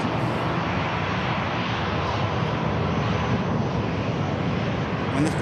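A Boeing 777 jet taxiing past at Manchester Airport, a steady broad engine roar and whine filling the scene at close range, loud and unbroken with some wind buffeting, no talk.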